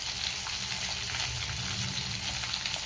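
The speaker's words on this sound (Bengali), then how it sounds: "তেলের মধ্যে গোটা জিরে ফোড়ন দেবো।" Whole cumin seeds sizzle in hot oil left over from frying fish, a steady close hiss and crackle of frying that holds evenly throughout with no talking.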